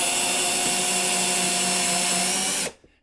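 A power tool whirs loudly and steadily for nearly three seconds while backing out the cover screws on a WS500 voltage regulator, then stops abruptly, leaving a faint rattle.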